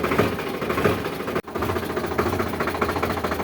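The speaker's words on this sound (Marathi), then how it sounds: "हे एक त्या शेल्फला ट्रॅक्टर चालू झालेला आहे मित्रांनो" A Sonalika tractor engine idles just after starting, a steady mid-pitched chugging drone with a brief dropout partway through, close and loud throughout.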